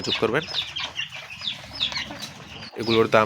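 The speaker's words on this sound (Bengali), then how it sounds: "এগুলো হচ্ছে ভাই আড়াই মাস বয়সী বাচ্চা আসিল মুরগি অরিজিনাল বাচ্চা" Aseel chicks about two and a half months old cluck on a farm, with close, repeated overlapping calls that fill the scene.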